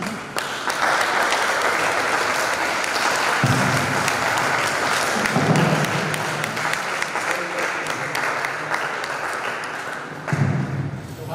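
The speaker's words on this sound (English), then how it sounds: "Another round of applause" Sustained audience applause at a workshop, a loud, steady roar of many hands clapping throughout, with a few heavier thumps and a voice breaking in now and then.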